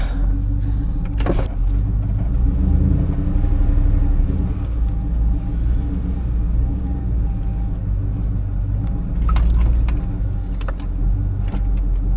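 A Ford engine idles with a low, steady rumble, loud and close, broken by a few brief clanks and rattles.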